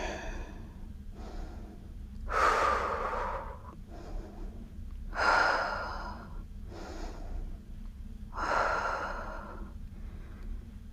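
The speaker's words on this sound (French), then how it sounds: "On inspire, on expire." Slow, audible breaths in and out during a beginner leg-focused yoga pose: three drawn-out airy exhalations spaced a few seconds apart, close to the mic over a low background hum.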